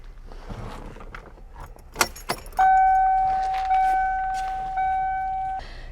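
Keys jangle as the key in a Foxbody Mustang's ignition is turned to run, followed by a steady electronic chime that repeats in three sustained tones, close and clear.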